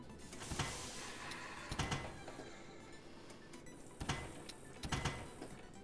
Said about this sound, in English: let me go ahead and set up my pill printer